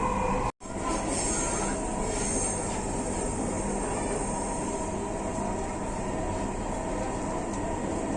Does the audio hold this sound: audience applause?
no